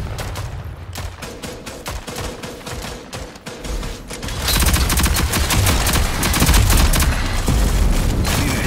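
Rapid bursts of gunfire in the team shooter video game Rogue Company, with a leveled-up gun, dense and loud, intensifying into sustained heavy firing in the second half with no talk.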